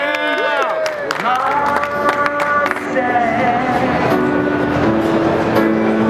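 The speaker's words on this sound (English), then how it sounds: "Come, give me some applause." A crowd applauding and cheering at CES 2014 over sustained musical tones from a Sound Blaster Axx AXX 200 speaker, the clapping building into a dense wash of noise.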